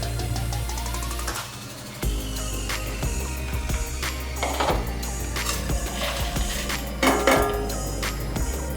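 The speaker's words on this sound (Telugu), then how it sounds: "ఇప్పుడు పొయ్యి మీద తాలింపు వేసేసుకుందాం." A pan clatters on a stove while tempering is set up for tomato pulihora, with sharp metallic clanks, knocks and clinks scattered over a low steady hum and no talking.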